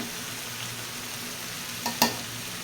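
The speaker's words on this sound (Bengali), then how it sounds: "আমি এখন খুব ভালো করে মরিচের এটা ভেজে নেব।" Chili masala frying in oil in a pan for a dried loitta fish (shutki) bhuna, a soft, even sizzle with a couple of sharp utensil clinks near the end.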